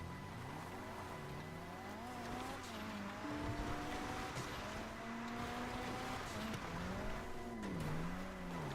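Car engine from the video game GTA 5 Online, a steady droning motor whose pitch rises and falls as the car corners and accelerates, with faint tire noise, continuous and fairly close, no talking.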